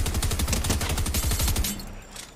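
Rapid machine gun fire in a video game: a dense, fast burst of rattling shots for about a second and a half, loud and close, then cutting off into a quieter tail.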